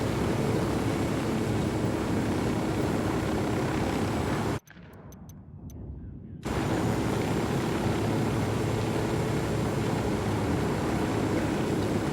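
A helicopter in the video game Ghost Recon Wildlands drones with a steady, loud rotor and engine hum that cuts out abruptly for about two seconds midway, then resumes unchanged.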